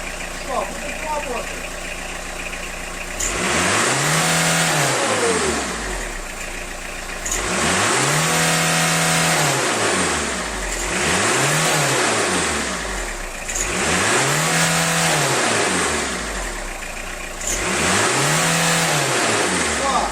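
A Fiat Scudo 1.9 turbo diesel van engine revs up hard five times in a garage, each burst rising and holding before dropping back to idle, loud and close.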